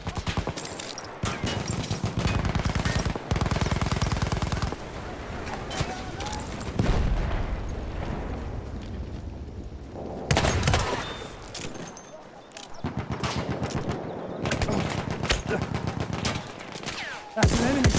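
Rapid video game gunfire rattles in dense automatic bursts, loud and close, broken by short pauses and a few heavier booms, with a voice heard briefly amid the shooting.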